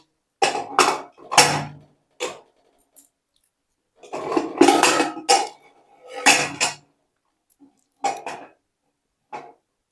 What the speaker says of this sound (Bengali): এবার প্রেসার কুকারের ঢাকাটা আমি আটকে দেব।